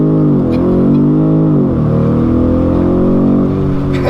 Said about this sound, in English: foot hard on the brake, foot hard on the gas, little flag comes up.